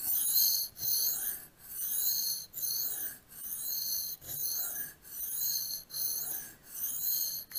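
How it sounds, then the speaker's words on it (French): A knife blade strokes back and forth across a Glasstone 500 grit sharpening stone, giving about eleven even, rhythmic rasping scrapes, close and fairly quiet, with no talk. "Le grain 500 de la Glasstone travaille assez rapidement"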